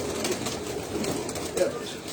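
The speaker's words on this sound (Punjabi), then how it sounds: "ਇੱਕ ਕਬੂਤਰ ਉੱਥੇ ਹੀ ਹੈ" A pigeon coos softly in low, rounded notes, with people talking close by throughout.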